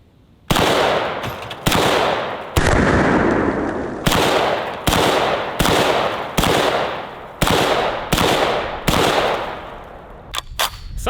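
An M1A rifle fires about nine loud, sharp shots at ice-jug targets, spaced roughly a second apart, each with a crack and a decaying outdoor echo, then a few fainter clicks at the end.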